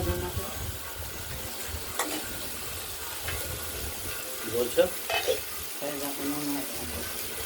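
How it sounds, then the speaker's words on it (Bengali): Bitter gourd and pumpkin fry in a wok, giving a continuous soft sizzle with occasional scraping stirs and clinks, moderately quiet and without talk. "অনেকটাই ভাজা হয়ে এসেছে উচ্ছে কুমড়ো ভাজাটা আমাদের হয়ে এসেছে"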